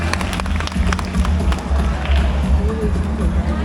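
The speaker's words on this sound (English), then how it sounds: "let's give a round of applause for Wiz and for his trainer Shakir" An audience at an animal show at Singapore Zoo claps for the performing animal Wiz and his trainer Shakir. The applause is a dense, steady wash of many hands with crowd noise, close and loud throughout.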